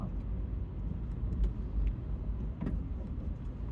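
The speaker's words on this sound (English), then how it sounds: "Yeah, that's a lot of traffic, and you can't take a U-turn here." Steady low road traffic noise rumbles around a car: engines, tyres and passing vehicles blend into a continuous muffled drone with brief swells, heard from inside the car without talk.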